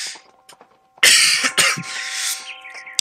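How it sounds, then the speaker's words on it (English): A person with a bad cough from a virus coughs hard, a couple of loud harsh bursts after a few faint throat sounds, close to the microphone. "excuse me for my coughs, but I'm coming down with a rather bad cough from a virus"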